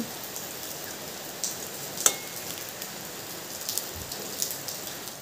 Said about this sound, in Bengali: হালকা একটু দুদিকটা লাল লাল করে এখানে আমি ভেজে নিচ্ছি